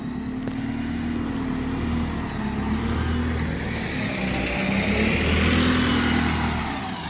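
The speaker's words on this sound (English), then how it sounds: "And time for Stagecoach, the first Enviro 200 of the video, I think." A Stagecoach Alexander Dennis Enviro 200 bus pulls away with a steady mid-pitched engine drone that swells as it accelerates, fairly close by at a depot, without talk.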